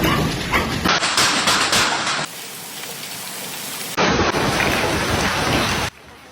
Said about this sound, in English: powerful summer hailstorm tore through Sichuan's capital, hammering the city with ice the size of bird eggs